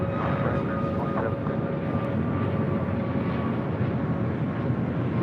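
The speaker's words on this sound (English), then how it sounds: "Next departure is Southwest Airlines flight 461, a 737 MAX 8." A Southwest Airlines Boeing 737 MAX 8 jet departing at LAX, heard as a steady, continuous engine roar with a faint whine, holding level throughout at a moderate distance.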